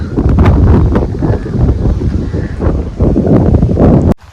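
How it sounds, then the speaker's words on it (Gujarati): Strong wind buffets the microphone in a loud, continuous roar with gusty fluctuations at Saputara hill station, Gujarat, cutting off abruptly near the end. "અત્યારે ફૂલ પવન છે"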